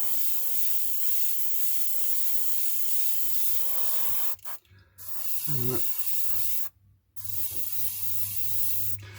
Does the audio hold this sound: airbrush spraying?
yes